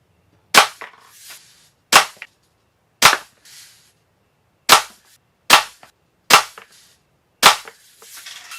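Daisy Buck Model 105 BB gun fired into cardboard, seven sharp, loud cracking shots spaced about a second apart, each with a brief smack of impact, no voices.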